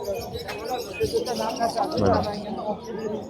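Assorted caged birds, pigeons and doves among them, brought out for sale at a crowded outdoor bird market, give soft coos and chirps under steady crowd noise and someone talking nearby.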